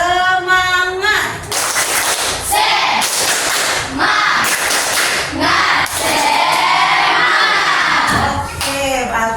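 Schoolchildren in an Indonesian classroom shout a loud rhythmic spirit clap chant together, with bursts of clapping and voices filling the room continuously.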